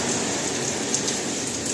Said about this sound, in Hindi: सुबह से लगातार बारिश हो रहा है